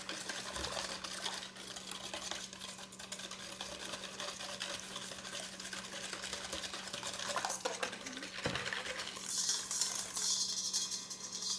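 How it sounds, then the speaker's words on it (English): A balloon whisk stirring chocolate ice cream mixture in a bowl, a soft continuous swishing and faint clinking over a low steady hum, quiet and close, with brief louder scrapes near the end. "Balloon whisk. I'm just gonna give this a nice big stir."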